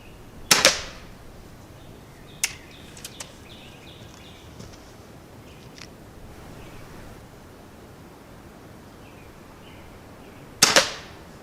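A Gamo Whisper Fusion Elite air rifle fires H&N Sniper pellets: two sharp, close cracks about ten seconds apart, with a few faint clicks in between against a quiet outdoor hush.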